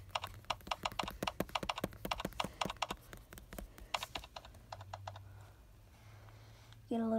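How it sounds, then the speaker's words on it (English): Quick taps on a tablet's on-screen keyboard form a rapid run of sharp, close clicks that slow and thin out toward the end before a brief louder sound cuts in. "Use the keyboard to type a message. Okay, let's type all different kind of gibberish."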